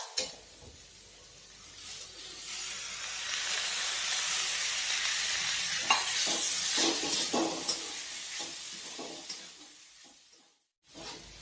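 Onion and spring onion greens sautéing in a pan for vangyache bharit, a broad hissing sizzle that swells and then fades, with a few stirring knocks before it drops away near the end.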